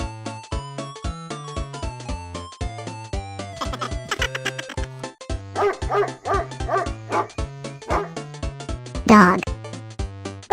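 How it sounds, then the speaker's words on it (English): A dog barking in a children's farm animal song, several yips and barks over a bouncy musical backing, loud and close. "Dog."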